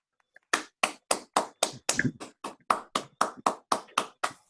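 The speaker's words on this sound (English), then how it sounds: "I know it's only like 3 people clapping, but let's clap" A few people clap in slow, evenly spaced single claps at a Rotary Club awards event held online, about fifteen sharp claps close to the microphone with no talking.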